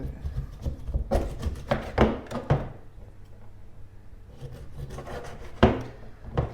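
A knife cuts chicken for cooker biryani, making close, irregular rasping saws and knocks against a board in two busy clusters with a quieter pause between them.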